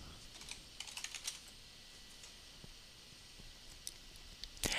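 Quiet close-up typing on a computer keyboard while a file name is entered, with bursts of soft key clicks separated by pauses and one sharper clack at the end.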